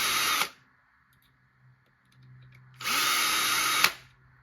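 A power drill backs screws out of an RC car differential on a Losi Lasernut U4: two loud whirring bursts, one short at the start and a longer one later, separated by quiet handling noises.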